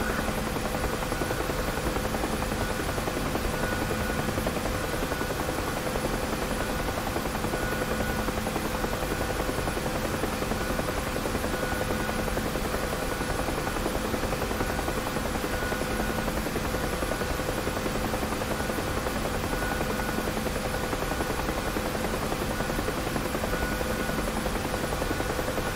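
A helicopter drones continuously with a loud, even rotor buzz and steady engine whine, unbroken throughout.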